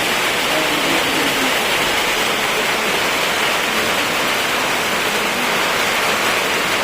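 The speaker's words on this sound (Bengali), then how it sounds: "দেখেন কত জোরে বৃষ্টি আইছে ভাই" Heavy rain in Bongaigaon pours down steadily, producing a dense, constant hiss that stays close and loud throughout, with no voices over it.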